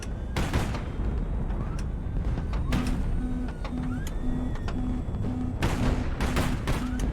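HighFleet naval combat: a continuous, loud wash of gunfire and missile launches with repeated sharp shot bursts, a steady rhythmic pulsing tone beneath, and no speech.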